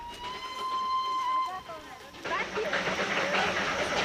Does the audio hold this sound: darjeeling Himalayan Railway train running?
yes